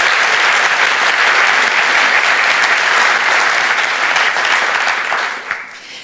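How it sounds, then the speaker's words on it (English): A room of attendees at Process Mining Camp 2016 gives Giancarlo Lepore a loud round of applause, many hands clapping in a thick, continuous roar that tapers off near the end. "Let's first give Giancarlo a round of applause."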